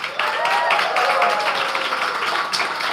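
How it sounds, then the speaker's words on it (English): An audience at a Women and Climate celebration during NYC Climate Week claps throughout, a dense, steady wash of hand claps close by, rising and falling slightly. "why don't we give her a huge round of applause?"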